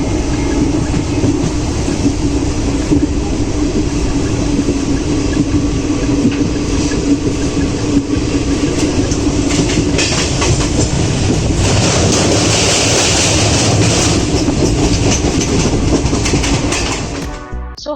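Passenger train running out of Siliguri Junction toward New Mal Junction on the way to Kalimpong in North Bengal, a steady loud rumble with rhythmic clickety-clack of wheels on rail and no talk.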